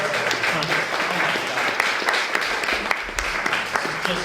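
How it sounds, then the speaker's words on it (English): Conference audience applauding in a steady, dense wash of claps for the organizers, continuous across the whole stretch with a few sharper individual claps standing out and low murmur underneath. "I would like to ask everyone to join me in a round of applause for Andrew and his colleagues"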